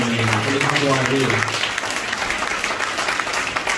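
A church congregation applauds to encourage the young people and the decoration team, with dense, steady clapping that fills the whole stretch, and a voice-like tonal sound over the first part.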